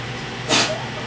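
A single short, sharp sneeze bursts out over quiet room hum, loud and brief.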